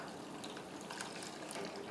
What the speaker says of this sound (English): We're going to pour in 2½ cups of cashew milk.